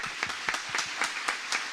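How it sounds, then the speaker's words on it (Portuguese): A church congregation claps loudly for the Lord, with a clear rhythmic beat of about four claps per second, the hands striking together in even time. "Aplauda bem forte ao Senhor"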